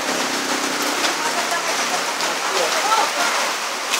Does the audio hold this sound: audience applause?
no